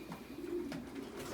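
Pigeons coo in a loft, a low soft throaty burble rolling continuously at close range, fairly quiet, with no talking.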